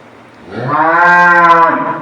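A Holstein Friesian dairy cow at a cattle sale in Dinajpur gives one long, loud, close moo that swells and holds for over a second before fading, with no talk.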